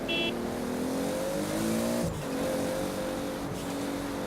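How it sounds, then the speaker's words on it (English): A Toyota Supra RZ engine in the racing video game Forza Horizon 4 revs with a steady, loud drone that climbs in pitch, breaks briefly at a gear change, then rises again, continuous and close. "That is the Supra. Really love it. And it can be a good ASMR machine."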